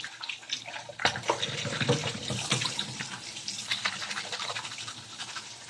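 Vegetables rinsed by hand under a running kitchen tap, a continuous splashing water stream with sloshing and scrubbing noises, close up and moderately loud.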